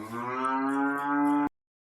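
A cow moos once on a farm, a single loud, close, sustained low call of about a second and a half that cuts off abruptly into silence.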